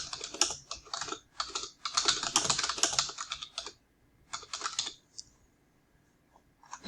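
A search query is typed on a computer keyboard: rapid bursts of close key clicks with short pauses between words, ending in a few isolated taps, with no talking.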